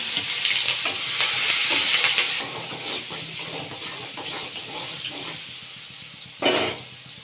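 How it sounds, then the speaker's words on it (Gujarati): Tomatoes and green chillies hitting hot oil with mustard seeds, cumin, fenugreek and curry leaves in a Gujarati vaghar tempering, a loud steady sizzle with stirring that settles after a couple of seconds, then a brief burst of hiss near the end. "ટમેટા અને મરચાંનો વઘાર."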